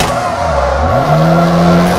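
Rally car in the video game WRC 3 pulling a handbrake turn into a hairpin: loud engine drone with a pitch drop and shift, plus tire skid noise, close and continuous.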